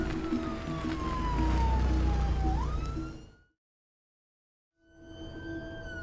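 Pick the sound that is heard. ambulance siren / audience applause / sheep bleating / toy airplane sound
ambulance siren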